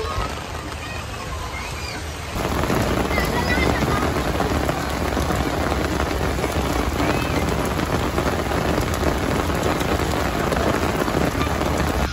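Steady heavy rain falls throughout during a summer trip in the Philippines, intensifying abruptly after about two seconds into a dense, loud hiss, with faint voices in the background.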